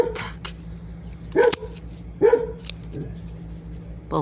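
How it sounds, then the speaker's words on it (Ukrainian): A dog in a rural yard gives two loud, close barks with a few softer yips and whimpers between them over a steady low hum, with no talk. "На сусідку він завжди гавкає."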